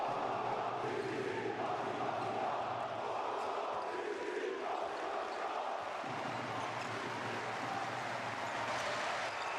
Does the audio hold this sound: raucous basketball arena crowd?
yes